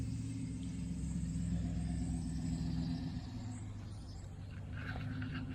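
A Pontiac GTO with its hood open, its engine giving a steady, close, deep rumble that fades slightly as the car pulls away, with no talking.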